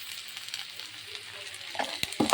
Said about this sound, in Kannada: ಇದು ಫ್ರೈ ಆಗ್ತಾಯಿದೆ ಎಳ್ಳೆಣ್ಣೆಯಲ್ಲಿ.